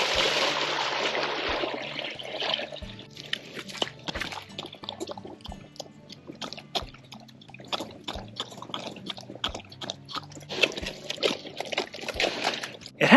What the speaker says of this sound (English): I typically have to make 2 trips with 2 5-gallon buckets so that I can fill up their water